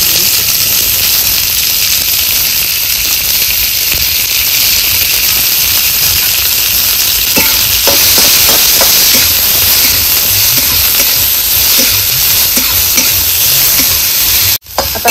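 Sliced onion frying in oil in a pan for chicken curry, a loud continuous sizzle and hiss close up, with a few stirring scrapes and knocks and no talking.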